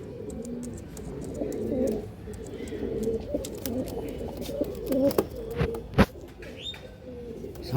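Pigeons in a breeder's cage coo in low, throaty bursts close by, with scattered chirps, wing flutters and sharp clicks of movement throughout, and no voices.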